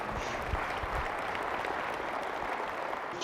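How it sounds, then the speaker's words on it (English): An audience at the 2017 State of Reform Alaska health policy conference applauds to welcome US Senator Dan Sullivan for a morning keynote, a dense, steady wash of many hands clapping throughout. "let's give him a round of applause"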